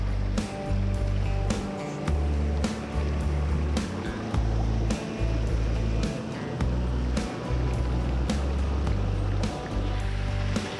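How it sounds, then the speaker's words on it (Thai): A small waterfall about one metre high in a village spills steadily, its rushing, splashing water close and constant, with a low rumble underneath and no talk. "เราจะเห็นทานน้ำตกตรงนี้นะครับ สูงประมาณ 1 เมตรนะครับ"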